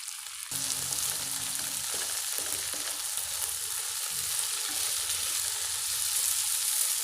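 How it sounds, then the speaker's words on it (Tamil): Carrots and curry leaves sautéing in a pan give a steady, close sizzle throughout, with occasional stirring scrapes and no voices. "நல்லா வதக்கிக்கோங்க இப்போ நம்ம கேரட் சேர்த்தலாம்"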